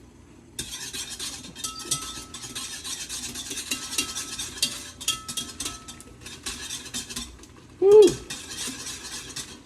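A small whisk scrapes and rattles steadily against a pot while cornmeal is whisked into boiling water to make fungi, a busy metallic stirring that runs for several seconds before a brief exclamation from a voice.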